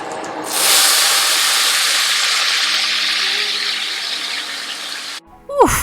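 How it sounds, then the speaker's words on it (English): A loud, steady hiss of guanciale sizzling in a hot pan, continuous for several seconds before cutting off abruptly. "that's a nice sizzle, exactly what we want."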